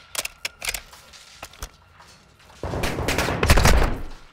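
Gunfire from the Call of Duty Modern Warfare II campaign: a few sharp, separate shots at first, then a sustained loud burst of rapid automatic fire with heavy low rumble in the final seconds.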